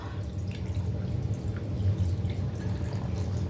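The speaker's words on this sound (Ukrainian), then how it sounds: "В банку заливаю звичайну холодну воду." Cold tap water runs into a jar of cabbage being prepared with salt and sugar. A soft, steady trickle and splash continues quietly throughout, with no voices.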